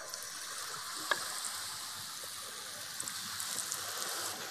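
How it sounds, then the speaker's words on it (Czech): Battered salmon fries in hot oil with a steady, close sizzle and a few sharp pops standing out. "Lososa obalím v těstě a vkládám ho do vroucího oleje."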